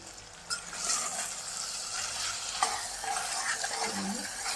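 A brinjal curry with ginger-garlic paste is stirred in a pan, a steady soft sizzle with scraping of the spoon along the bottom, close and moderately loud.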